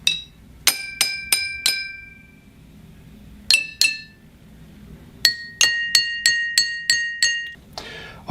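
Musical drinking glasses are struck to sound a fifth, each clear ringing ping alternating between two pitches. Pairs and then a quicker run of taps follow with short pauses, bright and close, with a faint rustle at the end.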